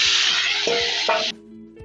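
Goat meat tipped into a hot pan with onions, a loud steady frying sizzle close by with a couple of clunks as pieces land, then the sizzle cuts off abruptly.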